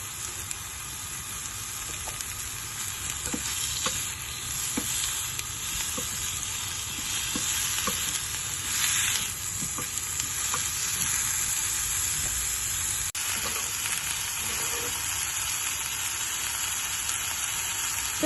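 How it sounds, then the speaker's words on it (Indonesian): Sliced onions sauté in a wok, producing a steady close sizzle and crackle of frying oil, with occasional soft scrapes and clicks of stirring throughout. "yang aku lakuin adalah numis bawang bombay yang sudah aku potong tadi"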